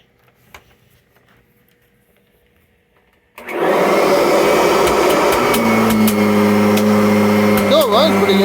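A 2017 Kirby Avalir upright vacuum cleaner starts up after a quiet stretch, then runs loud and steady with a strong motor whine and a high pitched hum close by.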